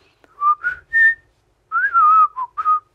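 A person whistles a short, melodic tune, a few quick notes, a pause, then a longer phrase, close and clear with no talking.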